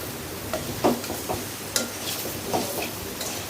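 Taro stems and hilsa fish being stir-fried in a pan hiss with a steady close sizzle, broken by irregular scrapes and light clinks of a spatula against the pan, with no talking.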